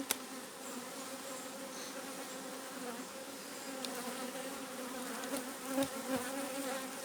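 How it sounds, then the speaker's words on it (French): Dense, steady buzzing of many honeybees swarming around a hive close by, a continuous drone with occasional louder passes near the listener. "Il y a plein d'abeilles sur le portable."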